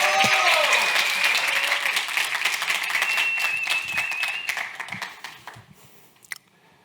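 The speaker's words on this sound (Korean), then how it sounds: "큰 박수로 맞아주시기 바랍니다." Applause from a seated audience at a public HRD competition final welcomes the next presenter to the stage, loud and dense at first, then thinning into scattered claps and fading out.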